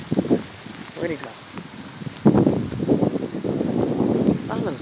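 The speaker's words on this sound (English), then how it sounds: "The rain is falling." Rain falling outdoors in Jamaica near a river and woods, a steady broadband patter running through the whole stretch with voices talking over it.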